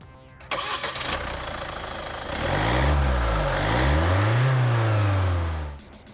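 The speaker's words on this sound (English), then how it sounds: "you can obviously tell that it's a diesel engine when it's running" A 2017 Kia Sportage 2.0 turbo diesel engine starts up close and idles, rising and falling as it revs a few times with a gruff diesel rumble before cutting off.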